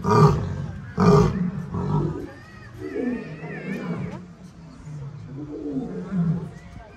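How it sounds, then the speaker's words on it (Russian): Lions in an enclosure in Crimea call back and forth with deep, rhythmic roars and grunts. Two loud bursts come first, then a run of softer, fading grunting calls. A person speaks over part of it. "И, конечно, перекличка львов."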